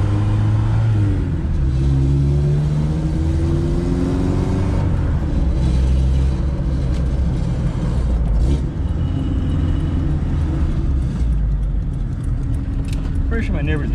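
A Honda Civic EF hatch with a holed resonator and a bad exhaust leak rumbles loudly and continuously close by, its engine revving and settling in a raw, throaty drone.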